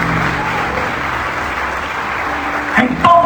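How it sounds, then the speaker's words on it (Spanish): A church congregation claps in steady applause that fills the room, with a few louder hand claps standing out near the end. "Si puedes aplaudir, aplaude a Dios."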